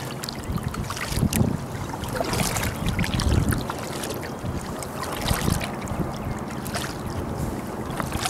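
A Jackson Big Tuna kayak moving across a lake, with continuous splashing and water churning from paddle strokes plus some wind buffeting the microphone, close and fairly loud, with no talking.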